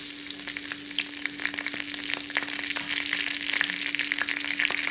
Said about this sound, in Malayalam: ഇതിലേക്ക് 1/2 ടീസ്പൂൺ കടുകും 1 നുള്ളി ചെറിയ ജീരകവും കുറച്ച് കറിവേപ്പിലയും കൂടി ഇട്ട് കടുക് പൊട്ടിക്കാം.